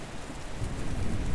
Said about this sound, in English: Ah, there's the rain.